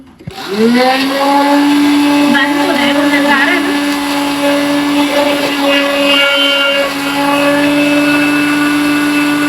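A juicer grinder machine whirring loudly and steadily close by, a high motor whine that holds for several seconds after starting up, with faint voices under it.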